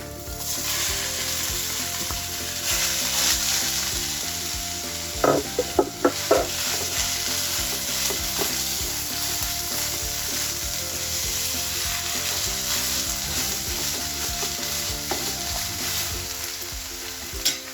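Ground soybean frying in masala in a pan gives a loud, continuous sizzle with a few sharp scrapes and knocks of stirring near the middle, and no one talks.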